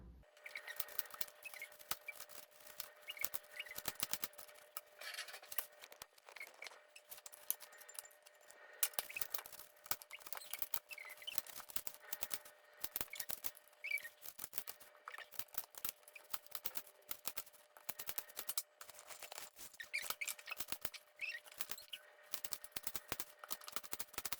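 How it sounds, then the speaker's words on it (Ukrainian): A knife cuts apples into small cubes for strudel, giving a long steady stream of rapid, crisp chopping taps and clicks, close and moderately quiet, with no voices. "а тепер треба нарізати яблука кубиками"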